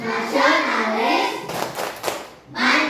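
Schoolchildren in a classroom doing the PPK rhythmic clap, a short burst of quick group clapping between stretches of chanted voices, fairly close and clear.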